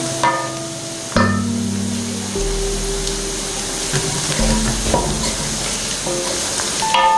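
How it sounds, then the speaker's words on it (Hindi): Steady sizzling and crackling of onions frying in a pan, with occasional stirring scrapes and faint clinks; no talking. "हमारे प्याज जो है ना वो फ्राई हो चुके हैं, ये आप देख सकते हैं।"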